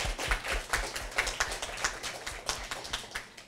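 An audience gives scattered, uneven claps at the close of a tech talk on using DevOps for hackathon development; the hand claps are fairly close and fade into a loose patter.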